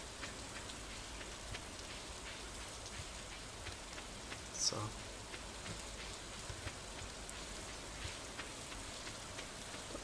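Rain falls in the farming game Stardew Valley, a steady even patter with one brief sharper sound in the middle, no talk over it.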